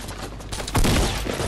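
Gunfire in a video game, with a burst of loud shots and a heavy impact that rings out briefly.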